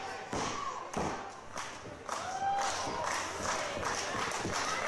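In a live wrestling match, a body slams onto the ring mat from a German suplex, giving heavy thuds over a reverberant arena crowd murmur and scattered cheering.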